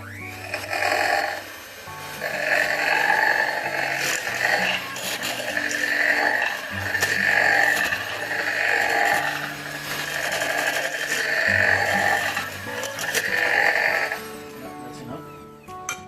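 Electric mixer whirring through plum cake batter in a home kitchen, a steady buzzing drone that swells and eases in waves over about sixteen seconds, with no talking.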